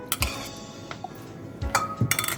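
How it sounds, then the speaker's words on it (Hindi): Chana chaat with potato being stirred in a bowl, with a few clinking, scraping knocks of a spoon against the dish, close and moderately loud against a low background hum. "पहले हम इसे मिक्स करते हैं थोड़ा सा ताकि ये अच्छे से मिक्स हो जाए।"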